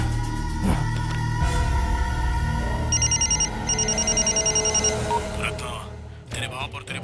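A telephone rings in repeated bursts of trilling bells over background music and drama sounds, then cuts off near the end.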